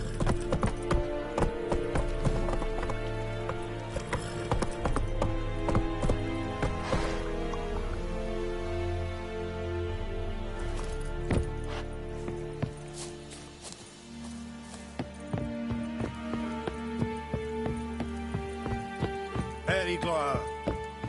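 Hooves clip-clop from a galloping horse in the video game The Witcher 3, a quick patter of beats running through the stretch alongside game music and a talking voice.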